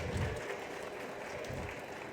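An audience at a talk gives a soft, continuous round of applause, a dense wash of many hands clapping together at a fairly low, steady level.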